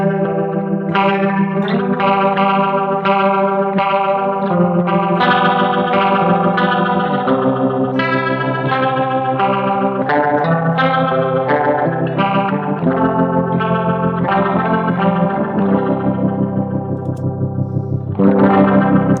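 A chiming Rickenbacker electric guitar through a Boss GX-10 effects processor strums and picks chords through heavy modulation and distortion effects, swirling and continuous for the whole passage, with a brief pause near the end.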